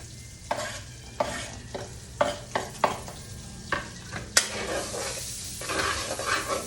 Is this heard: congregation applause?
no